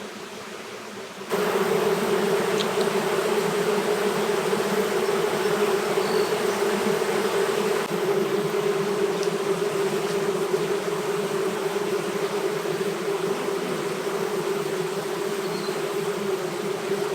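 Honeybees in an opened beehive give off a loud, steady, dense buzzing drone that stays level throughout, close to the listener, with no talking.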